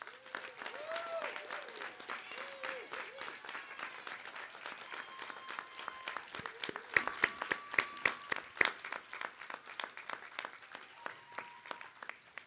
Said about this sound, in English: Please stand and accept our applause.